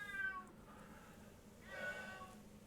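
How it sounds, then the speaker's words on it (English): A pet cat named Wushali meows twice indoors, a drawn-out meow at the start and another about two seconds later, both fairly faint against a quiet background. "That's my cat, Wushali."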